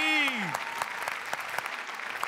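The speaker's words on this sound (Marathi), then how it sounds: "जोरदार टाळ्या झाला पाहिजे जयवंत सरांसाठी" Studio audience applause for a guest on a Marathi comedy show, steady crowd clapping that follows a brief musical tone.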